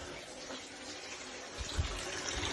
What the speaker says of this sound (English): also you do need to have the water running